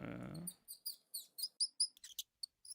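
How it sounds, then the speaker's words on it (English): A bird chirps in a quick series of short, bright, high tweets with brief gaps, clear and alone after a short low rumble at the start. "It is a bird."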